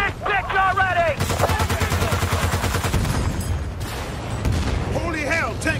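Dense suppressive gunfire from Battlefield: Bad Company 2 rattles in rapid, sustained automatic bursts, loud and close, with shouting voices over the shooting at the start and end.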